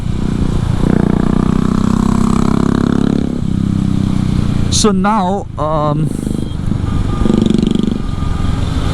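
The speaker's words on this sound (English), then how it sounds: "I want to find out how fast this motorcycle goes on the highway" A KTM 390 Adventure motorcycle fitted with a 47-tooth rear and 14-tooth front sprocket drones steadily at highway speed with wind rush, the engine note shifting as a rider speaks over it.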